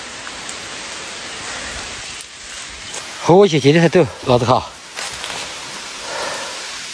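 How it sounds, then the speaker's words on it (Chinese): Heavy rain falls on a narrow mountain path beside cliffs, a steady hiss running throughout, while someone speaks loudly in the middle over the downpour. "下大雨了"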